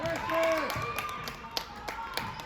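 Scattered claps and cheers from the crowd at a school basketball game between Middletown Christian Eagles and MVCA Lions, with a few sharp, distinct hand claps standing out over a murmuring background.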